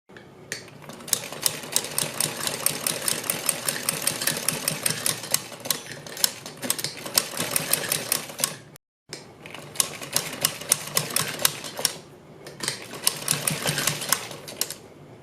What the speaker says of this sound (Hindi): यहाँ पर एक सिलाई लगाएंगे।